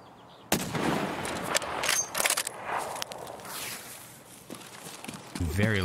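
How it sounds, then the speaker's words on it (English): Gunfire in a hardcore shooter video game, a loud sharp shot opening a dense stretch of echoing shots and rumbling in-game noise. "Very loud gun."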